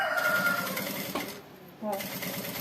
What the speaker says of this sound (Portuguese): só senta pra costurar